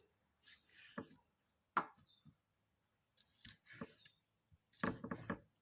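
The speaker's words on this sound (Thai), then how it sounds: "หั่นเป็นชิ้นพอดีคำนะครับ" Several sharp knife strikes chopping squid on a cutting board, coming in short irregular bursts with pauses between them, close and fairly quiet.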